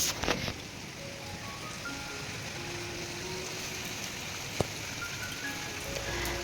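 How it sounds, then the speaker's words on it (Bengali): Rain falls outside in a soft, steady hiss, continuous and fairly faint, with one brief tap partway through. "হঠাৎ করে আবার বৃষ্টি আরম্ভ হলো।"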